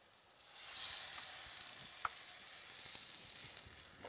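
Pre-cooked vegetables brown in a smoking-hot pan, giving a soft, even sizzle that swells early and holds steady at low volume, with one small sharp tick partway through.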